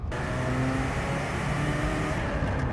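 A Ferrari F40 engine accelerating at half throttle in fourth gear, a loud, close, continuous mechanical roar from inside the car that holds steady throughout.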